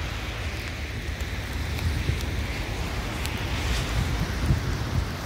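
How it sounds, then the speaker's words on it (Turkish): Heavy rain in Cappadocia hisses steadily in a dense, unbroken wash of noise, with wind rumbling underneath throughout. "Yağmur çok şiddetleniyor."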